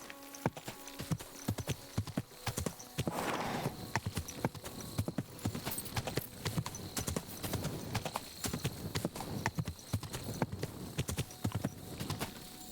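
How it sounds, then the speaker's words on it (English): Horse hooves clip-clop steadily on the ground while riding in the medieval video game Kingdom Come: Deliverance II, a brisk, continuous rhythmic trot close up, with a brief whinny early on. "I ride my horse"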